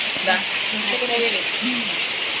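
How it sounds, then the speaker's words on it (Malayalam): Heavy rain falling outside, a steady broadband hiss heard close and continuous, with a voice talking quietly over it. "പുറത്ത് നല്ല മഴയാണ്"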